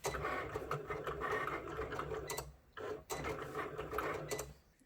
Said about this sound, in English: my Cricut is done cutting